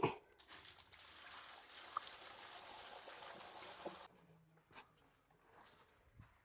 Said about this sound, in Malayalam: ട്രാപ്പിലും മാനഹോളിലും നമ്മൾ വെള്ളം ഒഴിക്കും